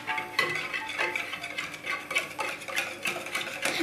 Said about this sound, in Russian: Сюда отправляем ванильный сахар. Хорошенько размешаем.